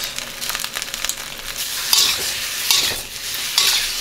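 Pork pieces sizzle and fry in a pan while being stirred, with a steady hiss and irregular scraping strokes, close and fairly loud, no talking.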